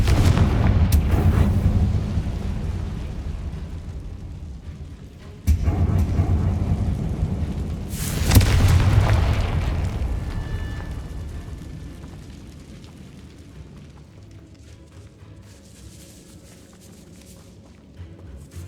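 A Confringo explosive spell fires in the Hogwarts Legacy video game, giving heavy rumbling booms inside a decayed catacomb. A sharp blast is followed by a second loud burst that fades into a long, dwindling rumble.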